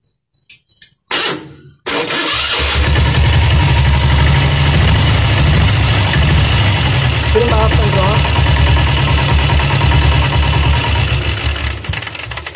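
A diesel Royal Enfield Bullet motorcycle engine cranks briefly, then catches and settles into a loud, steady idle with a low, knocking chug that continues close up for the rest of the clip.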